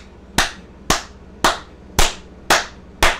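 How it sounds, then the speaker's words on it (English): Six sharp hand claps from a single person, evenly spaced about half a second apart in a steady rhythm, loud and close with no talking. "He trying to clap."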